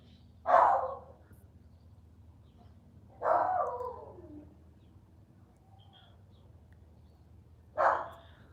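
Three muffled barks from a dog inside, spaced a few seconds apart, faint and dull as if heard through walls, with a quiet hum between them.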